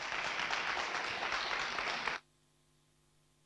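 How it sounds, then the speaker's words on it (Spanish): An audience at an afternoon film and imaging conference session claps in a dense, loud burst of applause that stops abruptly after about two seconds, leaving near silence. "Fuertísimo aplauso para Daniela Fegerman"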